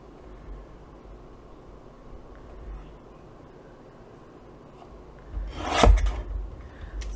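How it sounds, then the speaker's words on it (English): Paper strips for a Christmas candle explosion box card are trimmed by hand, a quiet rasping rub for several seconds before a louder, close slicing swipe near the end. "So I'm just going to cut my strips down to that."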